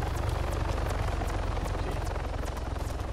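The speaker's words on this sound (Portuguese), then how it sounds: "Acho que o helicóptero passou." A helicopter flies past in the military video game ArmA 3, its rotor thumping steadily and loudly with a dense engine roar throughout.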